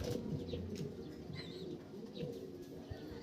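Racing pigeons coming back to a loft, with soft cooing and chirps, a few quick wing flaps, and faint background noise throughout.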